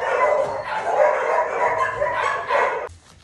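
A small dog barks and yips in a room, a run of sharp, close, loud bursts with whiny edges, ending abruptly after about three seconds.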